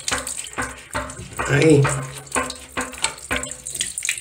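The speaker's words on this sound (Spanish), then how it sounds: "Ahí va a caer el agua otra vez." Water splashes and trickles from a toilet tank during a repair, a short pouring burst in the middle amid handling clatter, with someone speaking briefly.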